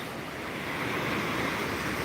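Ocean waves wash steadily onto a Florida beach, a broad continuous hiss of surf with a gentle swell in loudness, heard alone with a breezy rush and no voices.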